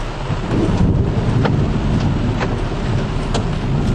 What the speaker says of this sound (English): I think we're in the tornado.